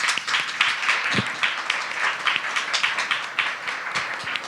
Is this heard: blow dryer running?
no